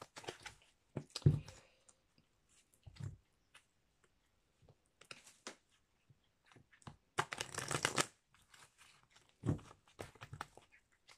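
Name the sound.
shuffling a deck of oracle cards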